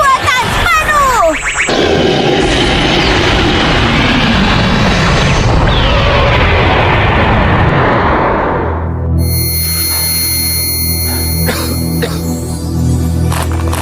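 Animated weapon fired at full power in a cartoon battle, a loud roaring blast with sweeping chirps and rumbling booms that fades out, followed by ringing tones and electronic hum.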